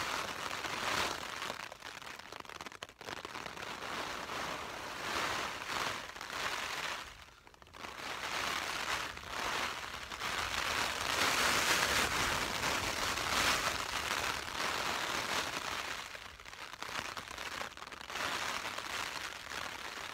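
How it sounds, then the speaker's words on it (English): Steady rain patters and hisses close by on a summit wild camp on Great Gable, a dense broadband wash with brief gusty swells and no voices. "Definitely raining."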